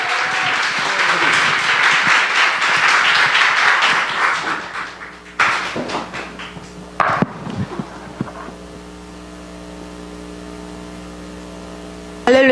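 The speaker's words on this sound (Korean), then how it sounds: "모든 영광을 하나님께 박수하시겠습니다" A church congregation claps during a Korean festival worship service, with broad applause for several seconds that fades into scattered claps and a low steady hum.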